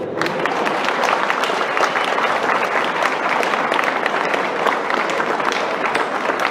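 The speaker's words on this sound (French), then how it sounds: "je pense qu'on peut l'applaudir" Audience applause at a talk in Cambrai, a steady crackle of many people clapping that continues at an even level throughout.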